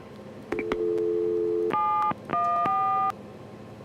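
A phone number is dialed on a telephone keypad, a series of steady touch-tone beeps of differing pitches, each held for a moment with short gaps and faint key clicks between them.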